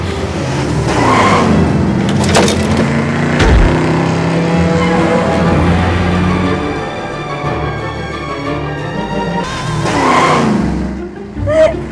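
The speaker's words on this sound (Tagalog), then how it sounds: "Diyos ko, ba't hindi humihinto tong kotse?" A car speeding out of control roars loudly with engine strain, punctuated by sharp tire squeals and skidding bursts that rise and fall across the stretch.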